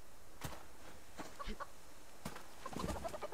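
A chicken in the Subsistence survival game gives a few quiet, scattered clucks, short separate calls spaced irregularly with a soft final burst of clucking.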